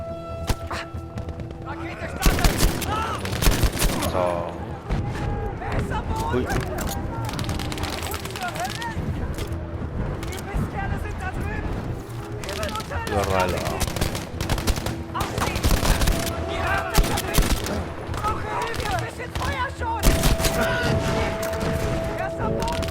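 Dense gunfire in Battlefield V on PS4 Pro, with the Tirailleur, rattles almost continuously: bursts of automatic fire and scattered single shots mixed with dull thumps, loud and close throughout, while someone talks over it.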